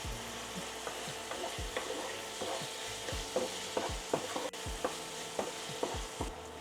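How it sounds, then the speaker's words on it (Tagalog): Marinated chicken fries in a pan for chicken fried rice: a steady sizzle is broken by repeated stirring scrapes and knocks at an irregular rhythm, close and moderately loud, with no voices. "Lutuin lang natin saglit yung chicken."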